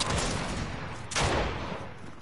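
A single accidental gunshot in Fortnite cracks out midway, a loud sharp blast over steady game ambience with no voices.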